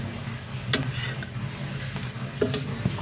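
Steady sizzling of egg-dipped bread frying in a pan, with a few sharp scrapes and clinks of a utensil against the pan.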